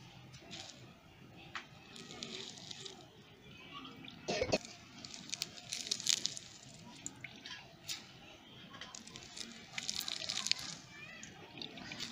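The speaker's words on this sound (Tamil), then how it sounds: "இப்போ நம்ம இதை வந்துட்டு டம்ளரில் புழிஞ்சிட வேண்டியதுதான்" Washed karpuravalli (Indian borage) leaves are squeezed by hand over a tumbler, giving faint wet squishes and drips, quiet and close, with no voices.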